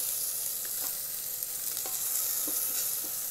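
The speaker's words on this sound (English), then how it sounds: "Mix well and fry this onion for 2 minutes." Chopped onion fries in the sauté pot of an Instant Pot for a cauliflower curry, a constant close hiss of frying broken by a few soft stirring scrapes; no voices.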